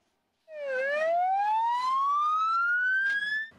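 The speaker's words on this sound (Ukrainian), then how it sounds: "ці бригади швидкої, а за ними пожежники мчать на дорожню аварію зі шкільним автобусом" Wailing emergency siren of ambulance crews followed by fire engines racing to a staged road crash with a school bus during a rescue drill, one loud continuous sweep rising steadily in pitch, close and alone without talk.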